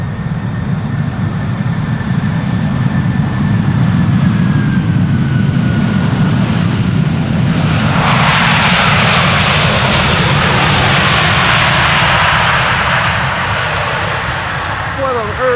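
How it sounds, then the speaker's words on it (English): A twelve-year-old KLM wide-body airliner lands at Amsterdam Schiphol, its steady engine roar swelling into a loud, broad rush as the thrust reversers deploy midway, with a voice talking over it. "It's using the reversers."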